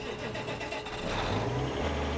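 A tractor engine rumbles steadily in Farming Simulator 2013, a close, loud mid-range drone that rises slightly as it revs after about a second, with no talking.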